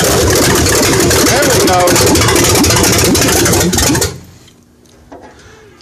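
A rebuilt 1968 Dodge Charger R/T with a 440 engine and short open exhaust pipes runs loud and rough on its first start, then cuts off abruptly; someone speaks briefly over the engine.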